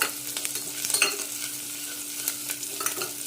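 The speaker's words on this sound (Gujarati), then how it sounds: "સરખી રીતે એને સાંતળી લઈશું। આપણી ડુંગળી ધીરે ધીરે હવે બ્રાઉન થવા લાગી છે" Sliced onions sautéing slowly on a low gas flame for a soya chunks pulao, a steady moderate sizzle with frequent light scraping stirs of a spoon in the pan, close and without talk.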